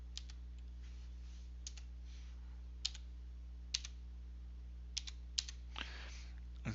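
Keys clatter on a computer keyboard in sparse, separate bursts of clicks over a low steady electrical hum, with no talking.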